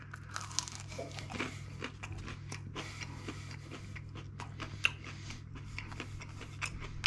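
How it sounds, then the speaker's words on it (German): Crunchy cheese-stuffed crust of an extra-spicy Tex-Mex stuffed crust pizza being bitten and chewed, giving a run of small, crisp crunches and clicks over a low steady hum, fairly close and quiet. "Wir fangen mal beim Käserand an und knuspern da ein bisschen rum."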